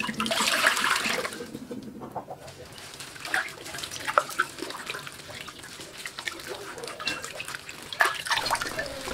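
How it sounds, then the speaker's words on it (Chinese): Pig stomach is rinsed in clean water, with splashing, sloshing and dripping that come in uneven bursts, loud at first, then quieter with scattered splashes, heard close up. "倒入清水，同样的需要换水多清洗几次。"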